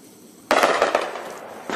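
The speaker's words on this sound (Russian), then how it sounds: "начали стрелять у нас со стрелкового оружия рядом" Small-arms gunfire nearby in Donbass in 2014, a sudden loud burst of rapid cracking shots that rings out and tails off, followed by another crack.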